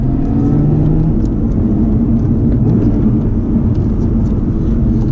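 Lotus Evora S GP Edition exhaust with sport mode off, a loud, steady low engine drone and rumble filling the whole stretch as the car accelerates, with no talking.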